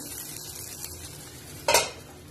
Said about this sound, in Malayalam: ഈ അപ്പത്തില് ഒരു സ്വല്പം എണ്ണയും കൂടെ ഒന്ന് ഞാൻ ചട്ടകത്തിലിട്ട് ചുറ്റിച്ചു കൊടുക്കുന്നുണ്ട്.